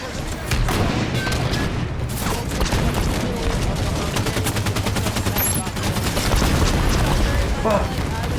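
Rapid, dense gunfire from a Halo 5 match rattles on almost without pause, with bursts of automatic shots and heavier booms layered together, loud and close throughout.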